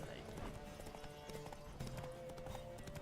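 Horse hooves galloping in The Witcher 3, a rapid, steady clip-clop running the whole time at moderate level, layered under a voice and game sounds.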